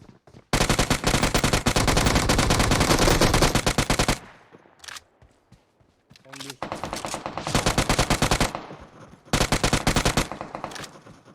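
Gunfire in the mobile battle-royale game PUBG Mobile: long, loud bursts of rapid automatic fire, a pause with scattered single shots, then two more sustained volleys close up.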